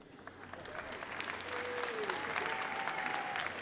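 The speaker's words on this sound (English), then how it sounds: "Don't clap too loud" Delegates at an annual conference applauding, a fairly quiet but steady wash of clapping that builds and holds, with a brief voice over it.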